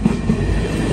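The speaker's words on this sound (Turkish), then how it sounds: "Trenimiz geldi arkadaşlar." Train pulling into a station, a loud close rumble of rolling cars with a couple of low thumps, steady throughout.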